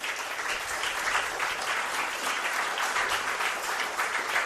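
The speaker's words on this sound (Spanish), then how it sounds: "Os pido un aplauso para él." Sustained audience applause at a public talk in Hermigua, La Gomera, a steady dense wash of many hands clapping at even loudness throughout, with no voices on top.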